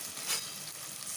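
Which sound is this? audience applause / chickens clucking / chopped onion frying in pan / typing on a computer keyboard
chopped onion frying in pan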